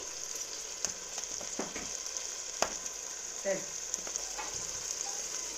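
A pinch of turmeric goes into hot oil while cooking drumstick pulao, and a soft, steady sizzle follows with a few sharp clicks and utensil taps, quiet and close, with no speech.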